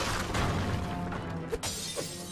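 Glass shatters repeatedly in the video game Knack, with crashing, crystalline breaks bursting over a busy backdrop of game sound and one sharp, bright smash standing out near the end.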